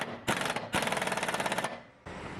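Impact wrench driving a mower blade bolt on a Scag mower with a 15/16 socket, firing in two close, loud rapid hammering bursts of rattling impacts, the second longer, with a steady motor hum between and after.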